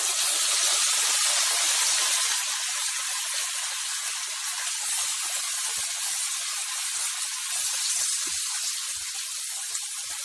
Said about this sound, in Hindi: अब हम इसमें ऐड करेंगे हमारा, देख सकते हैं हम, टमाटर, प्याज और जो हमने काजू लिया था उसका पेस्ट